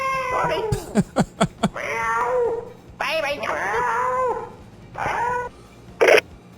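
A cat meowing in the video game My Winter Car, loud, close wailing meows and caterwauls in repeated bursts mixed with short sharp clicks, while a voice talks.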